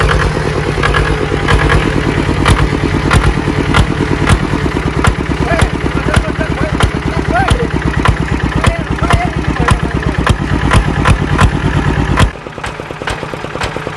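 Motorcycle fitted with a CJDW aftermarket exhaust revs hard near the mic, a deep bassy rapid-firing drone held for about twelve seconds, then dropping abruptly to a lower rumbling idle.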